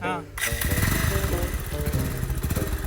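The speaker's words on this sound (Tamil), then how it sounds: "செல்ஃப் அமுக்கணும்டா, வண்டியை உடைச்சு விட்டுறாதடா." A motorcycle engine fires up on the electric self-starter and keeps running loud and close with a steady rumble, while people talk over it.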